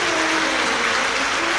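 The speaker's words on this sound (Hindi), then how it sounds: "एक बार जोरदार ताली बजाकर उनके लिए साधुवाद।" An audience claps loudly and continuously at a Shiv Mahapuran katha, a dense, sustained burst of applause from a large crowd that fills the whole moment.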